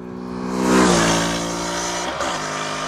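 A Yamaha YZF-R3 twin-cylinder sport motorcycle revs up close by, its engine note climbing loud and steady, then dipping briefly at a gear change before pulling on again.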